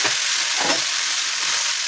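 Spices sizzle in hot oil while being tempered for Kerala sambar, a close, steady frying hiss that runs unbroken for a couple of seconds.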